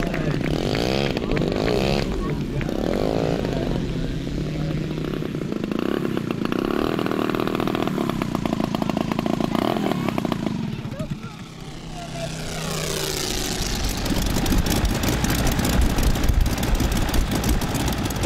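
A model Sopwith Camel fighter with a radial engine, flying at an 80th-anniversary aviation celebration in Dvůr Králové nad Labem, drones loudly and steadily, dips briefly near the middle, then swells again.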